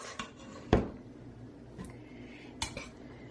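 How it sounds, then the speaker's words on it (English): Beans go into a cooking pot with a few hard clinks and knocks of utensil on metal, scattered sharp taps over a quiet room background. "We're going to put the beans into our pot"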